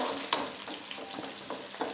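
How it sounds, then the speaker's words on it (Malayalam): Onion, crushed garlic and green chilli frying together in hot oil, a dense continuous sizzle close by with a few sharp clicks of stirring. "ഈ ചതച്ച് വെച്ചിരിക്കുന്ന നമ്മുടെ ഈ വെളുത്തുള്ളി ഈ പച്ചമുളകും കൂടെ അതിനകത്തേക്ക് ഇട്ടിട്ട് നമുക്കിങ്ങ് ഒന്നിച്ചിങ്ങ് വറുത്ത്"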